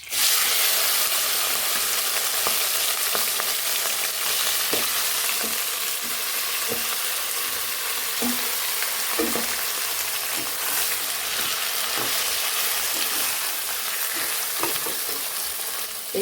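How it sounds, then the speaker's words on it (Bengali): Pieces of country chicken frying in hot oil with a cumin tempering: a steady, loud, close hiss of sizzling that runs throughout, dotted with small pops and crackles. "এবার মাংসটা কষে রাখা মাংসটা দিয়ে দেবো।"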